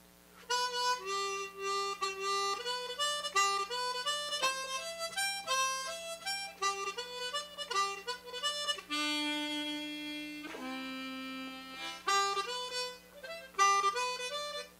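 A harmonica plays a blues boogie, a bouncy run of quick repeated notes and short phrases, fairly quiet and close, with a faint steady hum underneath and no talking.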